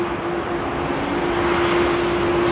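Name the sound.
Airbus A380 aircraft being pushed back at Amsterdam airport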